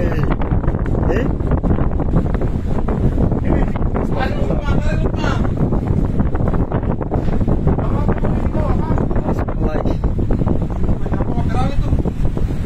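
Strong whirlwind gusts roar and buffet the microphone continuously on a beach, with rushing broadband noise and faint voices under it.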